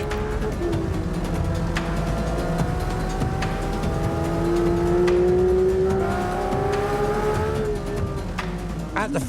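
Porsche 911 GT3 road car accelerating hard on a hot lap, its loud engine note climbing steadily through the revs, with a brief dip at a gear change before rising again, heard close up.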